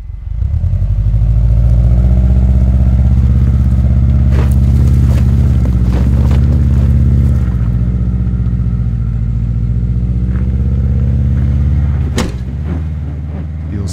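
A Subaru Forester XT's engine drones loud and steady as it accelerates along an off-road pine plantation track, with sharp knocks and clunks from the rear around the middle and a harder bang near the end as the rear control arm snaps.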